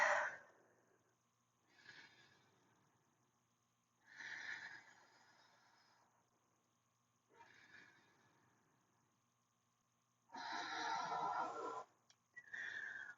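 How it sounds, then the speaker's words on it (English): Deep, slow breathing held in a yoga Warrior 2 pose, several close, airy inhales and exhales separated by quiet pauses, with a longer, louder breath near the end. "3 deep breaths."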